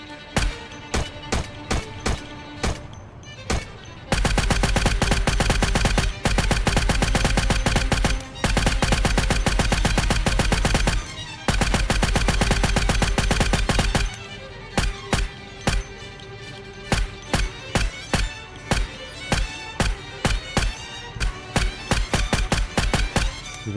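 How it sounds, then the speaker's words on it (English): Automatic gunfire from zombie-shooting in Project Zomboid, set in Louisville: rapid single shots give way to long sustained bursts, then resume as spaced, loud individual bangs, with no voices. "started blasting zombies for no reason at all"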